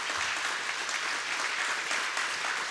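Audience applause fills the room in a steady, dense wash of many hands clapping, even and sustained from start to finish without pause.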